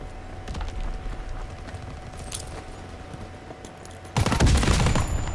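Thompson submachine gun from Call of Duty WWII firing in a sharp burst near the end, loud and close, after a stretch of quieter game ambience and scattered distant shots.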